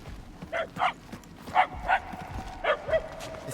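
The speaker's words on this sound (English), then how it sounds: "The barks are getting louder, at least." Dog barking inside the video game Guardians of the Galaxy, about six distinct barks at an even rhythm, moderately distant and slightly echoing, each rising clearly above a low game ambience.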